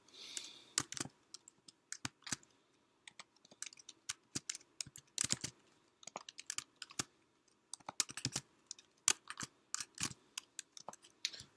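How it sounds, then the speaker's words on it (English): Keys clatter on a computer keyboard as a MAC address is entered, a steady run of close, crisp clicks in quick bursts with short pauses, no voices. "We'll type in that MAC address."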